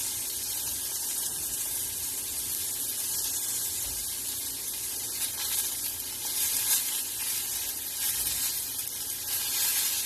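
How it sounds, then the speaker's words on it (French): Mushrooms grilling in an oiled, very hot pan give a steady, bright sizzle and frying hiss that runs continuously at moderate level, with small crackling swells throughout. "ce sont des champignons qu'on fait en grill"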